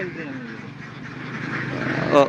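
Domestic ducks on a roaming duck farm in Bangladesh, breeds including Belgian and local, quacking in a flock behind ongoing conversation between people, with a brief louder burst near the end.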